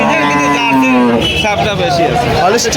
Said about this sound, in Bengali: পাশে একটা গাভী দেখতে পাচ্ছি অনেক সুন্দর একটা গাভি